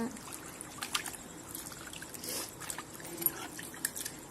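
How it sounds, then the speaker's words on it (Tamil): Water is poured to rinse and clean fish while a Tamil fish kulambu is being prepared, giving a soft, steady trickle with irregular splashy bursts, close by and fairly quiet, with no talking. "தண்ணியை ஊற்றி நல்லா சுத்தமாக இப்படி தான் அலசணும்."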